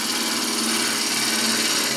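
A gouge cutting a wooden bowl spinning on a lathe, giving a steady, loud, hissing and whirring shear with no break over two seconds, no voices present.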